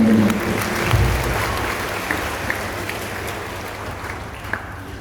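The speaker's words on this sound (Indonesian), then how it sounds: "Tepuk tangan mereka bersama keluarganya" Applause from a church congregation at a parish anniversary Mass, honoring the new parish council members and their families; steady, fairly loud clapping that fills the room for about five seconds with a slight swell near the start.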